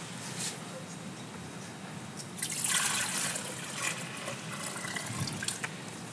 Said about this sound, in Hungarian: az ide készített vízből csinálunk egy kis forró vizet